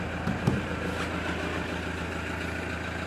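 A 2017 Toyota Commuter van with a 3.0 D4D diesel engine idles in a smooth, even, steady hum, nearby, with a single light knock early on.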